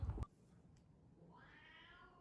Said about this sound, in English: The cats are arguing.